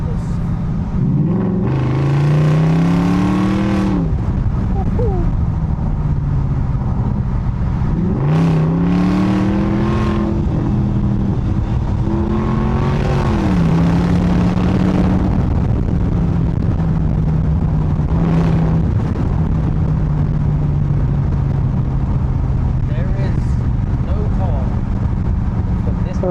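A BMW 650i engine revs hard three times, each sweep rising and falling loudly before it settles into a steady idle rumble, with someone talking over it.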